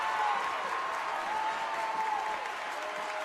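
Pulaski fans roar and applaud steadily at a high school boys' basketball game against North Laurel, a dense, continuous wash of cheering and clapping with faint whistles riding over it.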